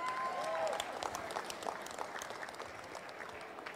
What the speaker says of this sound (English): Can we give a clap for God?